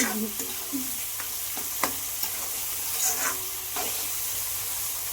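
Tomatoes sautéing with rock salt in a home pan, a steady close sizzle broken by the scrape and clack of stirring, with a brief louder burst near the middle.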